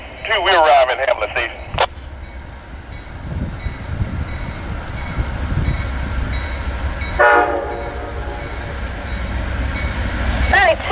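A CSX freight train arrives at Hamlet station in snowy weather, sounding its horn loudly in short blasts at the start, then again midway and near the end, over the steady rumble of rolling cars, with radio voices talking throughout.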